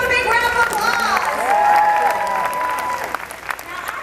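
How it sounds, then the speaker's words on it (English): An audience at a high school show applauds a volunteer, close, dense clapping with some cheering, steady then thinning out after about three seconds. "Everyone give him a big round of applause."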